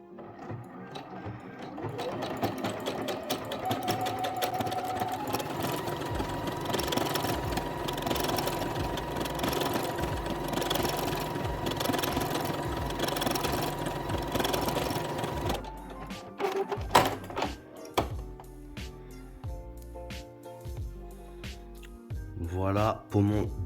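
Sewing machine running an overcast stitch along the edge of fabric: a steady, fast mechanical stitching hum for about fifteen seconds, then it stops, followed by a few clicks, quieter handling noises and someone talking.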